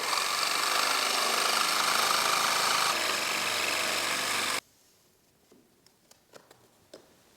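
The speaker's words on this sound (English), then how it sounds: "now I can take that to the jigsaw and we can cut it out" A jigsaw cuts a length of baseboard along a scribe line, a loud steady buzzing drone running continuously for several seconds before stopping abruptly, followed by a few faint knocks and clicks.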